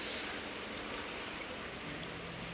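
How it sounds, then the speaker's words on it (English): Heavy rain falling outdoors during a downpour that is flooding the ground, a steady dense hiss of drops on surfaces that stays even and unbroken throughout, fairly soft and with no voices. "Dang, that's a lot of rain out there."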